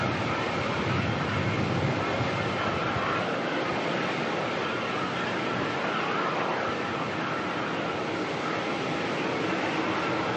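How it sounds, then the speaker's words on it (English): Jetstar jet airliner engines roar at Melbourne Airport, a loud, steady, broad rumble and whoosh that fills the whole stretch without letting up. "Jetstar's down there doing what Jetstar does best, making a lot of noise."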